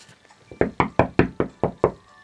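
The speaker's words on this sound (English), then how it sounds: "come to the front door and knock on the door if you can" Seven crisp, evenly spaced knocks strike a farmhouse front door in a quick steady rhythm, close and fairly loud with nothing else heard.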